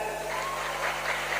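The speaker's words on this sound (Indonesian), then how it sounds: "Tepuk tangan." Audience applause at a live Islamic boarding school (pesantren) event, a short burst of steady, dense clapping from a crowd with no pauses.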